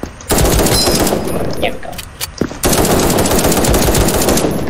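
Rapid semi-automatic weapon fire from the online shooter game Krunker.io rattles loudly and almost continuously, pausing briefly midway before resuming, while a player speaks over it.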